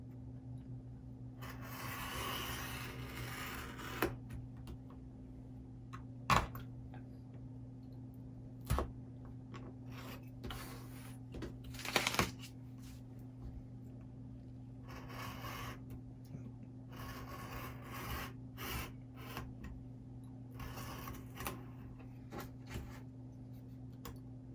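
Cutting along the outside edges of a handmade face-mask pleating tool, with scattered soft rubbing and scraping strokes, a few sharper snaps, and faint continuous hum beneath.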